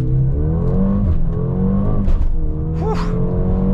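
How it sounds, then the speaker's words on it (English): A 2022 Mercedes GLB 35 AMG in Sport Plus launches hard from standstill, its engine droning loud and steady as pitch climbs, drops on gearshifts, and rises again, with brief whooshes between gears. "Get some slight pops, not pops, but oomphs from the exhaust."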